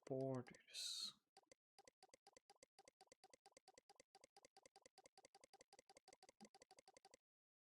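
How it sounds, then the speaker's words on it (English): Steady, rhythmic clicking in a Final Fantasy game: a long run of evenly spaced, soft, close clicks lasting several seconds, after a brief burst of louder sound at the start. "I hope you all like this clicking sound"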